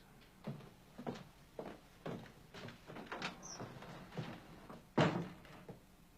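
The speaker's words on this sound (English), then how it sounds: "William, would you close the door, please?" A door is shut in an indoor room, a single sharp thud landing near the five-second mark after a stretch of quieter shuffling and faint movement.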